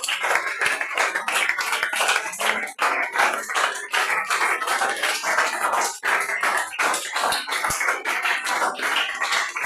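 A church congregation claps together in praise, a dense, steady patter of many hands that carries on without pause and with no talking over it.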